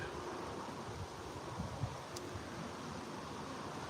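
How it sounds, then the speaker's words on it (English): Steady wind blowing across an outdoor microphone, a constant broadband rush with a few small gusts and no other clear sounds. "other than it being windy out here today"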